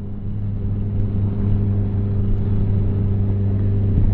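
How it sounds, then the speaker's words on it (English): Motorcycle engine braking on a steep descent, a steady low droning hum with a constant tone, close and continuous under road and wind noise, without voices. "And engine braking only."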